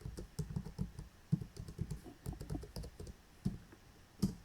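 Fingers typing a password on a computer keyboard, a quick irregular run of close, soft key clicks with a few harder taps, no voices.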